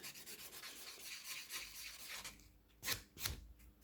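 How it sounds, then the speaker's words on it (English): A nail buffer rubs across an acrylic-overlaid fingernail with a soft, dry scratching, first as a continuous stroke, then as two sharper, separate passes near the end. No one speaks. "the buffer actually smooths out the nail and makes it harder for anything to stick to it"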